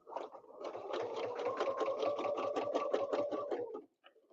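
A sewing machine doing ruler-work quilting runs in a fast, even stitching rhythm, loud and near, for several seconds before it stops abruptly.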